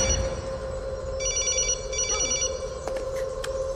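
A telephone bell rings in repeated double bursts over a steady room hum in a tense indoor film scene, with no one answering.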